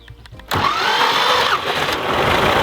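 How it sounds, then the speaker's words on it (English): A tractor engine cranks and catches abruptly, then runs on at a steady, loud, rattly idle close by. "Definitely gonna start up the tractor like that."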